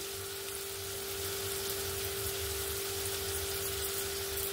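Chili powder, Kashmiri chili, salt and spices fry in oil in a pan for a fish curry, giving a steady, even sizzle with a faint hum beneath and no talking.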